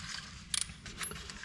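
A few quick, quiet ratcheting clicks from a ratchet with a 21 mm socket tightening bolts on an Audi S6 V10 front axle brake job, short bursts of metallic ticking against a low background hum.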